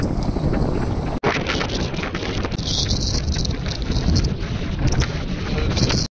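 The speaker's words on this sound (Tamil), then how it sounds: "அப்படியே காற்று எப்படி இருக்குது" Strong gusting wind on the Agasthyakoodam mountain summit in the Agasthiyamalai range, a loud continuous roar buffeting the microphone with one brief cut-out, no voices.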